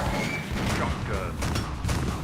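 Shotgun blasts in a zombie-shooting arcade video game, a few booming shots over mechanical clatter, with someone talking over the action.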